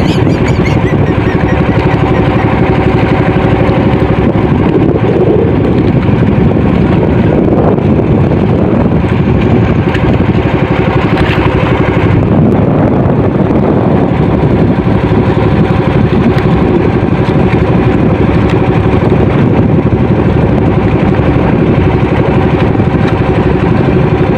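Loud, continuous engines of fishing boats circling at sea drone close by, mixed with heavy wind buffeting the microphone throughout.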